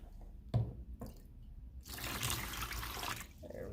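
Fresh water splashes over a sheet of glass just etched with Armour Etch cream, a steady close rinse of about a second and a half after a few soft knocks and handling sounds.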